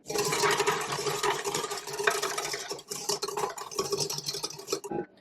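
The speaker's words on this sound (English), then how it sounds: "set my mixer on the high speed so that it will beat the egg whites into a stiff peak" A KitchenAid stand mixer with its whisk attachment beats egg whites on high speed, making a busy, rattling whir that runs steadily close by, with a few dips, then stops abruptly near the end.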